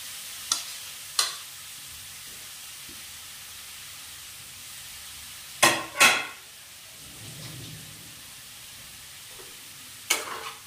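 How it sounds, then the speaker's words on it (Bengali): Grated carrot and beetroot fry quietly in a pan, a low steady sizzle broken by a few sharp spatula scrapes and knocks against the pan, close by, with no talking. "এটাকে এবার একটু নাড়াচাড়া করে নিচ্ছি"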